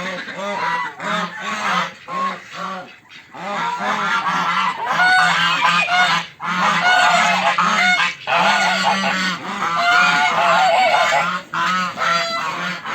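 Loud, continuous honking and quacking from a crowded flock of ducks, calls overlapping in a noisy chorus with only brief pauses.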